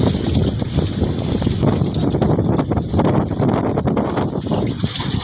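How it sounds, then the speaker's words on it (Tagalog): Strong wind roars and buffets the microphone over a choppy sea beside a small fishing raft, a constant loud rush of wind and waves with no voices. "Mahangin at maalon na kasi oh."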